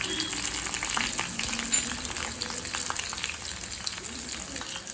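Cashews frying in hot oil alongside curry leaves and chillies for a sambar rice tempering, a steady close crackling sizzle that runs throughout with small pops, alone without talk.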